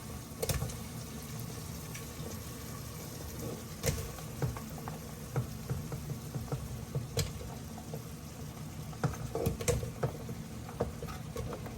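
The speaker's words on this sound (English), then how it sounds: "Now we throw in the calabacitas." Sliced zucchini (calabacitas) goes into a pan with onions and fries with a steady crackling patter of small pops and sputters, close and fairly quiet, with a low background rumble and no talk.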